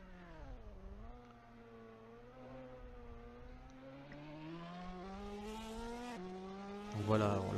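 Ferrari Challenge Europe race cars at Spa-Francorchamps in 2018 approach the La Source hairpin at Turn 1. A steady, loud engine drone rises and falls in pitch through gear changes, with a brief squeal near the end.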